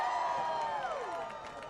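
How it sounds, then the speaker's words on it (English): Crowd shouting and cheering at a high school football game, a broad roar rising from the stands that swells early and gradually tapers off, heard at a distance without clear talk. "you're hearing a big shout out here at the crowd"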